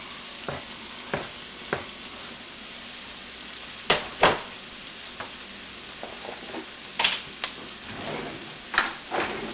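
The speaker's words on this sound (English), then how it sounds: "I got a whole chopped up onion. I'm going to put it down there, start sweating it out." A whole chopped onion sweats in a hot pan for stuffed bell peppers, giving a continuous crackling sizzle broken by sharp spits and pops at irregular moments.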